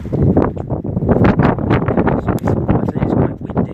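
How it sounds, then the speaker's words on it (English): Strong wind gusts buffet the microphone in a continuous, loud rumbling roar under an abandoned cooling tower at Willington Power Station. "the wind obviously blows through here"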